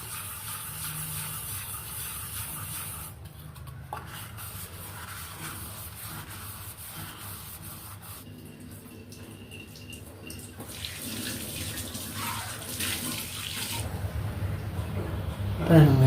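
A bowl is scrubbed with a scrub pad and rinsed at a sink with running tap water, giving a long stretch of hissing water and rubbing scrapes. A person talks over parts of it.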